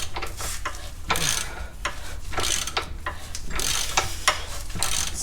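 A hand ratchet clicks in bursts while turning an oversized 19 mm socket on a Toyota Sienna trailing arm bushing bolt, with repeated close, sharp ratcheting strokes and brief pauses between pulls.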